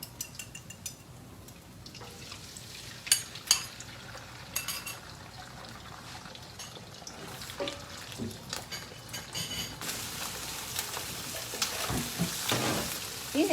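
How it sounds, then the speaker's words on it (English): Egg with a little garlic fries in a pan, a steady hissing sizzle with occasional clinks and scrapes of a utensil against the pan, the crackle growing denser and louder toward the end, with no talking. "Now I'm going to fry egg."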